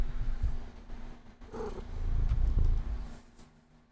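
A house cat called Mr. Kitty makes an odd, rough purring trill right up close, a short throaty burst amid soft rustling and thumps.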